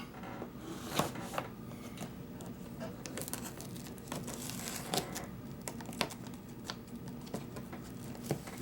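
Quiet, close crinkling and rustling while the packaging of a Tops Wild Pig Hunter knife is opened, with small scattered ticks and crackles over a soft background and no talk.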